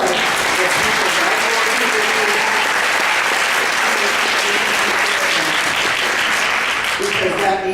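A nursing patient safety conference audience breaks into sustained applause, a loud, even wash of many hands clapping that carries on for several seconds before tapering, with a voice briefly audible beneath it.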